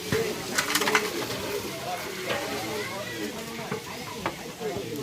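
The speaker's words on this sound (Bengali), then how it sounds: "এখন সম্বরা দিচ্ছি।" Spices tempered in hot oil for mung dal, cooked in bulk for a large village feast: steady crackling sizzle with sharp pops and spatters, while voices talk over it.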